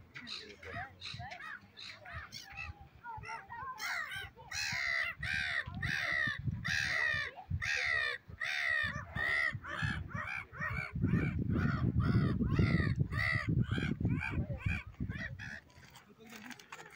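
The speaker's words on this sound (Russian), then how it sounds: "И чайки вопят нещадно." Seagulls cry loudly and constantly by the water near rocky shores at Vyborg, with harsh overlapping calls close by and wind or rustling beneath.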